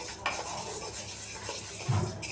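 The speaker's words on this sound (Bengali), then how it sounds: "ডালটা ভাজা হচ্ছে।" Dal lentils dry-roasting in a pan for khichdi, stirred with a utensil that scrapes and taps against the metal, over a soft background sizzle, close and brief.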